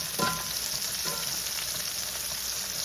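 Shrimp sizzle in a skillet, a loud continuous frying hiss with a couple of brief clinks or stirs near the start.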